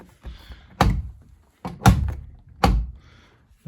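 Several dull thunks as the door of a Miele W1 washing machine is pushed shut, three distinct knocks spaced about a second apart, close and clear with no talking.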